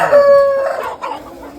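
A brief, strained crow from one of the heavy meat-breed roosters on a poultry farm, close and loud, trailing into a short cluck.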